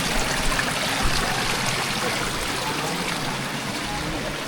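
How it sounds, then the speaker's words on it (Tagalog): Strong, steady rush of flowing water from a waterfall in Laguna, broadband and continuous throughout, close by with no pauses. "So malakas-lakas na rin yung agos niya guys."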